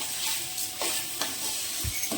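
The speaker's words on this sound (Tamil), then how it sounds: "இப்போ எல்லாம் சேர்த்து வதக்கி விடுங்க." Drumstick leaves being sautéed and stirred in a pan for chutney: a steady soft sizzle with several light scraping stirs spread through, fairly quiet and close, with no talking.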